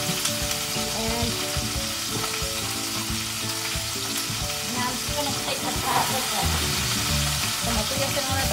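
Tomatillos fry in a pan, giving a steady, close crackling sizzle with occasional pops and stirring, heard without talk.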